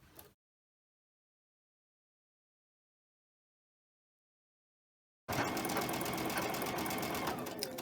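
A sewing machine stitches cotton fabric in a loud, steady, close run that starts abruptly after a long silence, with a faint earlier snippet of sound at the very beginning.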